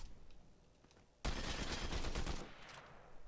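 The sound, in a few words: combat assault rifle firing in Fortnite video game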